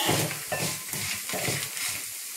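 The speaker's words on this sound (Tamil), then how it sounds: "இது கொஞ்சம் நல்லா வாசம் வர்ற வரையும் வறுத்துக்கலாம்." Red chillies and other ingredients roast in a hot pan for a Tamil Thiruvathirai kootu, a soft, continuous sizzle with rhythmic scraping as they are stirred, close by.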